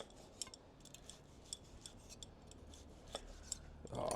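Knife slicing through grilled sirloin steak on a board, faint soft rhythmic scraping and light ticks in a quiet setting, with a louder rustle near the end.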